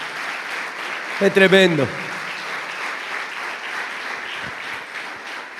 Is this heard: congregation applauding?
yes